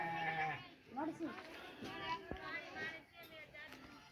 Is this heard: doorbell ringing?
no